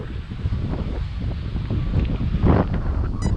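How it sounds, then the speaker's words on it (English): Strong gusting wind buffets a microphone outdoors near open water, a loud continuous rumbling roar that swells and lashes without letup. "God, the wind is whipping"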